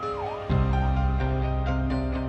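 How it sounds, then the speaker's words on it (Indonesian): Ambulance siren wailing continuously, loud and near, its rising and falling tone steady throughout with a constant droning undertone. "kita merasakan bagaimana suara ambulans yang terus berbunyi seakan tanpa putus"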